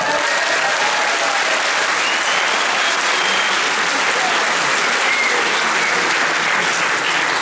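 Steady, loud applause from a convention crowd at a TGS gaming and anime event, dense clapping sustained evenly from start to finish.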